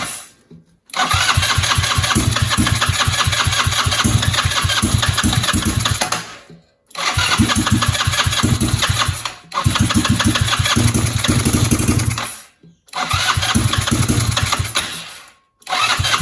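Engine of a buggy recovered from flooding cranks and catches, then idles with a steady mid-pitched throb in several long runs broken by short stops, loud and close with no talk.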